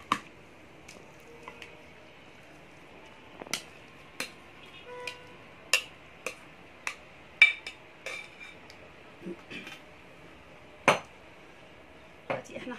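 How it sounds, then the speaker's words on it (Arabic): A spoon scoops coleslaw onto a serving dish with a series of sharp, scattered clinks and taps against the plate, close by over a quiet background. "حطينا كولسلو في طبق التقديم"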